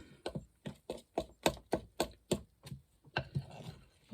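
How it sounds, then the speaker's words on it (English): A fork taps and scrapes rhythmically against a bowl while working a cayenne-spiced dressing together, a quick steady series of close, crisp clicks, about four per second. "you can just kind of work it around with your fork"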